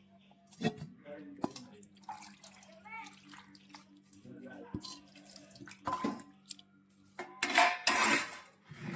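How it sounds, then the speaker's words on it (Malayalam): Ground coconut paste being stirred into a Kuttanad-style dried fish and raw mango curry in a pot, giving wet sloshing, squelching and spoon scrapes against the vessel, with a person talking at times. "നമ്മൾ ഈ അരച്ചെടുത്ത അരപ്പ് നമ്മൾ കറിയിലോട്ട് ചേർത്ത് മിക്സ് ചെയ്യുവാണേ"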